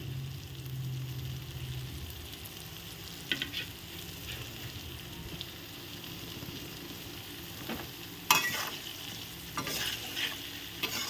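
Grated coconut frying and being stirred in a pan, a steady low sizzle with scraping spatula strokes and a few sharper clinks near the end, close by and without talk.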